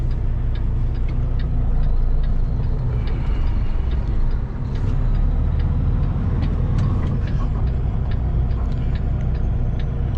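Car traffic drives along Main Street in Pincher Creek, Alberta, a steady low engine rumble heard from inside a vehicle with scattered faint ticks and clicks throughout.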